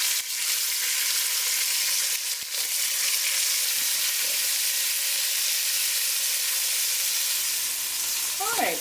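Beef pieces sear in a hot pan for Belgian carbonnade stew, giving a continuous bright sizzle with occasional scrapes and taps as they are turned.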